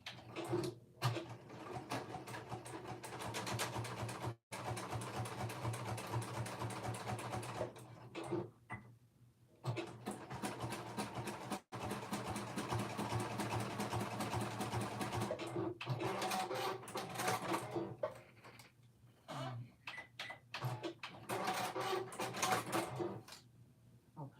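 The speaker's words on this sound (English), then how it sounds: "So let's just test this out." Sewing machine test-stitching on fabric: a rapid mechanical needle chatter in several bursts with brief pauses between runs, fairly close and alone without talk.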